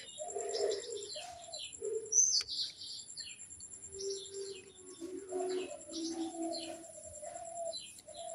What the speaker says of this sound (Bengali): এই তো দুটো শালিক।